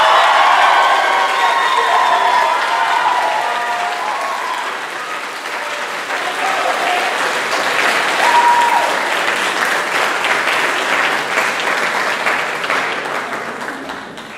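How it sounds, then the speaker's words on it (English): A full room applauds loudly and steadily for Dorothy Williams at a school band banquet, with some cheering mixed in, the clapping fading slightly midway and then holding strong. "Please give a warm round of applause for Dorothy Williams."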